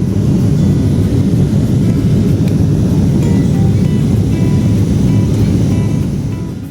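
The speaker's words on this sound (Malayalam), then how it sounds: "വിമാനം കാസാബ്ലാങ്കിലെ മുഹമ്മദ് എയർപോർട്ടിൽ ലാൻഡ് ചെയ്തു" A passenger airplane landing at Mohammed V airport in Casablanca after a seven-hour flight gives a loud, steady broadband roar throughout, heard from inside the cabin with no talk.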